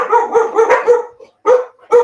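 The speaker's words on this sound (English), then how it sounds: "Sorry about the dogs." Several dogs bark in repeated bursts at close range outdoors, with a quick run of barks followed by a short pause and two more loud barks.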